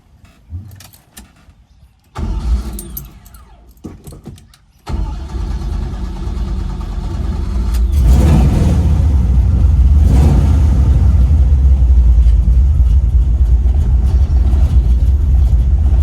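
A 1970 Chevrolet Nova is started after an ignition repair. Quiet clicks come first, then the starter cranks in two bursts before the engine catches and settles into a loud, steady idle close by.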